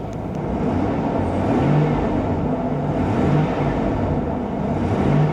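The engine of a 2019 BMW i8 that won't stay running drones steadily and loud, with slight rises and dips in pitch as it idles unevenly.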